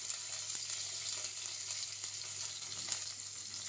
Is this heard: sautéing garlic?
yes